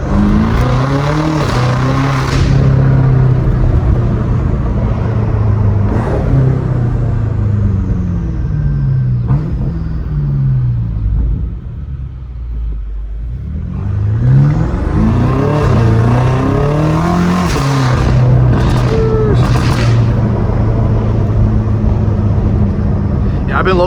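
A BMW M5 Competition with a fully straight-piped exhaust revs hard and close, loud rising and falling engine roar with a brief dip to idle midway before climbing again into repeated throttle blips.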